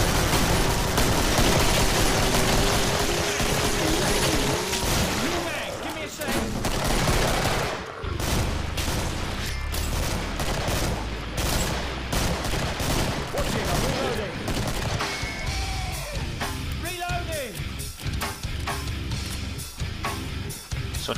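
Gunfire in the Killing Floor video game rattles in dense bursts and scattered single shots, loud and close, with gaps between volleys and voices talking over it.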